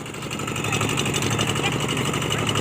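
A walk-behind farm tractor engine runs steadily on a rough rural track to an orchard, giving a loud, continuous mechanical drone with a throbbing low hum throughout.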